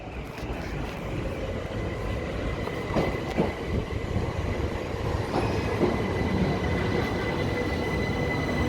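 A Class 377 passenger train running at Ford station in West Sussex, a steady loud rumble of wheels and rail with brief squeals and clanks, no talking.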